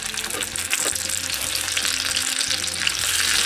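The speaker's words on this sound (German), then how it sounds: "Für die Aprikosen gebe ich mir dann die Butter in eine Pfanne, lasse die etwas weich werden und dann gebe ich die Aprikosen dazu" Apricots fry in softened butter in a pan, giving a steady crackling sizzle with small pops and stirring sounds, close up, and no voices.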